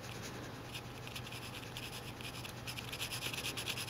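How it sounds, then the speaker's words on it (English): Light, steady scratching of a pencil shading mid-tones of a drawn eye on paper, soft and close, with a faint constant hum underneath. "Notice how lightly I'm pressing with my pencil."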